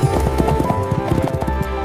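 Horse hooves clip-clopping at a quick gallop as horses pull a chariot in a storybook scene, a steady rhythmic beat close and fairly loud with no talking.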